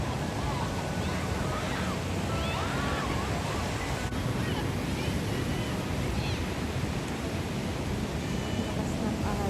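Steady broadband roar of ocean surf pounding the Arasaki coast, continuous and loud throughout with some wind buffeting the microphone, no talking.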